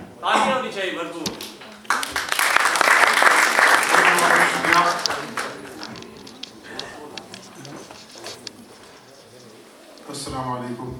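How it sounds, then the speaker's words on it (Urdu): Audience applause at a mushaira poetry recital in the Ealing Town Hall, London, swells into a loud, dense burst of clapping for about three seconds, then fades under a voice speaking before and after. "تالیاں ہونی چاہیے بھرپور۔"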